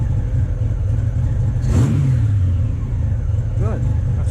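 A motorcycle engine idles strongly and steadily during a carburetor sync, a close, loud, low rumble with a brief rev swell, while a voice talks over it.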